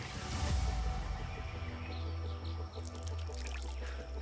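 Water poured over a silver coin to wash it gives a brief close gush that settles into a softer trickle and splashing, with faint outdoor background and no talking.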